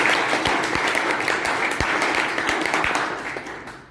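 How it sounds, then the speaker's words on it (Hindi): A crowd breaks into vigorous applause, a full steady roar of clapping with a few sharp, distinct hand claps standing out, tapering off slightly toward the end. "एक बार जोरदार ताली हमारे भैया के लिए"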